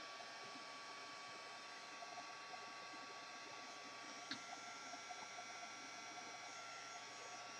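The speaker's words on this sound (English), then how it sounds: "dry it with my heat tool" A heat tool blowing hot air to dry Distress ink on a ribbon gives a steady, fairly faint whir with no talking over it, apart from one small click about midway.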